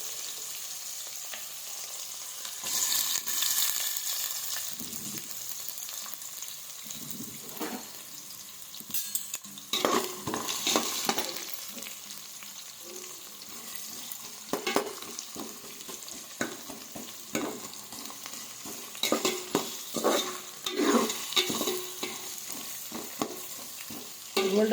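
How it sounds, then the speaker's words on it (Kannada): Onions and whole spices frying in oil in a pan for bagara rice, a steady soft sizzle broken by repeated stirring scrapes and clinks of a spoon against the pan, close up, with no talk. "ಗೋಲ್ಡನ್ ಕಲರ್ ಬರೋ ಗಂಟ ನಾವು ಫ್ರೈ ಮಾಡ್ಕೊಬೇಕು ಫ್ರೆಂಡ್ಸ್."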